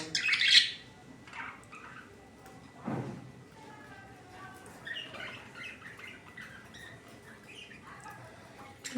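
Pet budgerigars squawk and chirp at home, with a sharp close call near the start and a scatter of lighter, quieter chirps later over low room noise.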